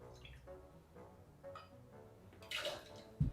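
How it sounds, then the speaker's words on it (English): Plymouth gin being poured over ice cubes for a cocktail: a short, quiet liquid pour followed by a sharp clink of ice, with no voices. "let's pour in the first ingredient, which is 30ml or 1 ounce of Plymouth gin"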